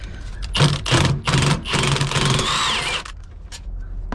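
Power tool running in short bursts, spinning out the 10mm battery hold-down bolts under the seat of a 2019–2023 Ford Transit Connect; several close, loud whirring pulses followed by a longer steady run, then quiet.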